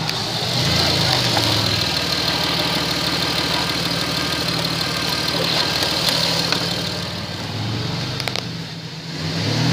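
A 2007 Chrysler Pacifica engine idles steadily and close up, a constant mid-low hum and rumble with faint ticking that holds for the whole stretch, with no talking.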